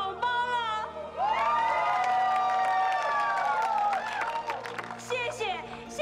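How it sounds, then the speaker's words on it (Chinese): Crowd at a family celebration cheers and shouts in a loud sustained swell, with whoops and some clapping, close and filling the room. "谢谢，谢谢大家的掌声。"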